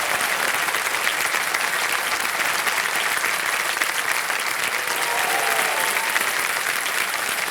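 A studio audience at a TV quiz show applauds a contestant, producing a thick, even roar of many clapping hands that holds steady and loud throughout without a break.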